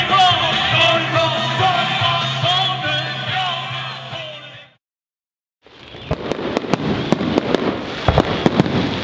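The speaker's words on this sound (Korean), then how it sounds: "둘째 날 밤은 시원하고 아름다운 폭죽놀이와 함께 저물었습니다." A night fireworks display at a motorcycle rally, with loud crowd noise and music at first, then after a brief silence a rapid run of sharp bangs and crackles going off close by.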